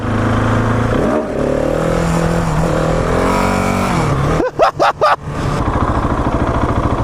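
Husqvarna 701 Supermoto motorcycle accelerating hard while doing wheelies, a loud close engine roar climbing through the gears with several sharp rev bursts and throttle chops near the end before steady riding resumes.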